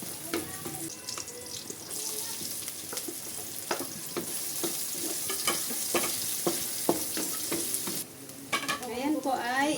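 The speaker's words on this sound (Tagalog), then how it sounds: "Ginisa ko na po ang bawang" Garlic sautéing in a home kitchen pan for spaghetti, a steady bright sizzle with repeated stirring scrapes and clinks throughout, ending with a brief splash of water near the sink.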